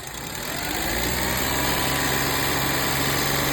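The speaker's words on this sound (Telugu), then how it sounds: "సింగిల్ సెల్ఫ్లో అయితే వెహికల్ స్టార్ట్ అవుతుంది" The petrol engine of a 2012 Maruti Alto LXi petrol/CNG car idles steadily at close range, a smooth continuous hum with a faint vibration, rising slightly at the start then holding even.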